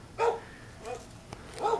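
Dogs bark in a fenced front yard, three separate barks or yips spaced about half a second apart at moderate volume against quiet outdoor background.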